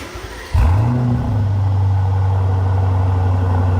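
An Aston Martin DB12 with Quicksilver front pipes fires up into a sharp, throaty rev, then settles into a loud, deep, steady burble close by, with no voices.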